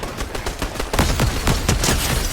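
Rapid gunfire rattles out in a shooter video game, a quick run of sharp, close shots packed tightly across a couple of seconds and growing denser and louder partway through, with no talking.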